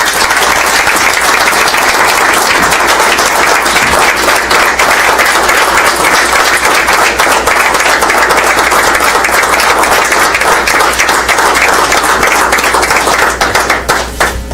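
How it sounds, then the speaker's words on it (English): City council meeting attendees giving officers a sustained round of applause, dense, loud clapping from many people that continues steadily for about fourteen seconds. "Let's give everybody a round of applause."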